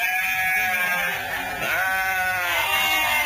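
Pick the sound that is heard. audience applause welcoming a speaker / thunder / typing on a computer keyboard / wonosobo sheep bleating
wonosobo sheep bleating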